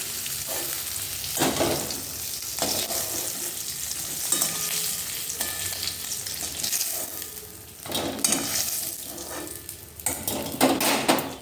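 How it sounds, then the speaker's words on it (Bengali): Fish frying in a pan of hot oil, a loud steady sizzle close by, broken by several bursts of spatter and scraping as it is stirred and turned. "এবার মাছটা ভাজা হয়ে যাক, তারপর এই দেখো মাছটা একদম লাল লাল করে ভেজে নিয়েছি"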